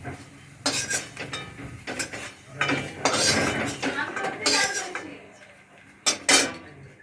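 A metal utensil clinks and scrapes against a pan as fried lentil fritters are lifted out, with intermittent sharp knocks, softer rattling and a little talk nearby.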